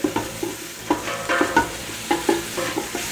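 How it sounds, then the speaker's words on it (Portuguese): Chopped calabresa sausage frying with onion in a pan, a steady close sizzle broken by regular scraping stir strokes roughly every half second, with no voices. "pra dentro danado, vai fritar com a cebola"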